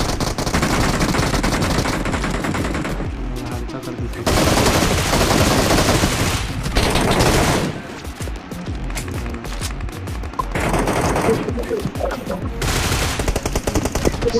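Sustained automatic gunfire in BGMI, loud and close, with continuous rattling bursts that briefly ease around the middle and then pick back up, while players talk over it.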